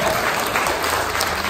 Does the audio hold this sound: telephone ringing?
no